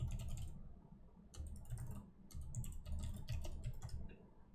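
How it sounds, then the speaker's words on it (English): Typing on a computer keyboard in a quiet room during a cozy writing session: bursts of quick, close key clicks with brief pauses between runs, alone with no talk and a low background hum. "Do some typing."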